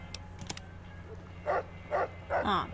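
A dog barks in the video game Fallout New Vegas, three short barks at roughly half-second gaps, fairly near and moderately loud over a steady low game-ambience hum.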